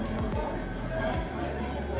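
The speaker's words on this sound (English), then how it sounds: "Open air cafe." An open air cafe ambience plays through a Kia EV6's cabin speakers, a soft murmur of indistinct crowd chatter and babble at moderate level, holding steady throughout.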